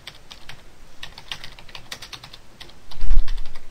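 Keys clatter on a computer keyboard as a search term is typed, a quick, close run of light taps that grows louder and denser toward the end, with no talking.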